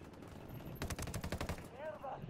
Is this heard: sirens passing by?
no